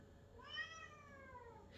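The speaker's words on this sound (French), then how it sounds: "J'ai mon chat qui miaule en même temps" A domestic cat gives a single clear, drawn-out meow nearby against a quiet room background.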